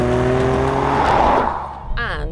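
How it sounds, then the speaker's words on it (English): Maserati Grecale Trofeo SUV with a 3-litre twin-turbo V6 roaring loudly under acceleration, its engine note rising in pitch before easing off near the end. "It's a 3-litre twin-turbo V6 with 530 horsepower and 620 newton meters of torque."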